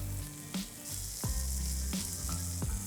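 Corn kernels go into a pan with garlic and browning spring onion whites, raising a loud close sizzle that swells after the kernels drop in, with a few spatula scrapes and no talking.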